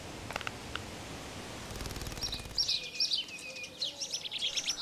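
Small finch-like bird calls, chaffinch, in a British outdoor setting: a series of faint, bright chirps and short whistled notes, fairly distant, following a few soft clicks.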